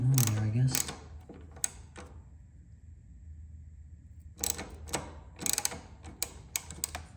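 A ratchet tightening the centerstand bracket on a 1979 Vespa P200E scooter, bursts of rapid metallic clicking separated by quiet pauses, close up, with someone speaking briefly at the start.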